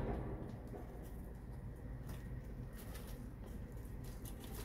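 Breeding pigeons in a loft give a low, steady cooing that sits under constant broadband room noise for the whole stretch.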